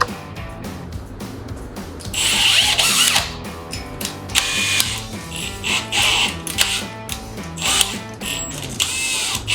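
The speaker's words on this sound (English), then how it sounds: "Now we got on our 25/64 drill bit." A drill with a 25/64 bit bores through a Mustang GT Performance Pack spoiler, giving short whirring bursts and a sustained grinding run in the middle, with ratcheting mechanical clicks between them at close range.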